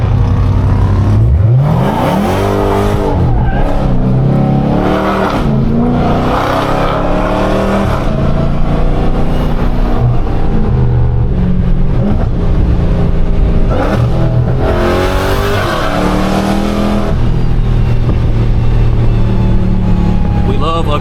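A Dodge Hellcat accelerates hard in repeated aggressive pulls, its engine revving up and dropping back several times. The engine roars loud and close throughout, and a voice talks over parts of it.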